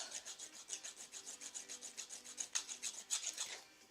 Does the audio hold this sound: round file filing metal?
yes